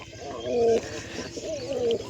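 Pigeons on a rooftop being fed grain give two soft, close coos about a second apart, over faint background noise.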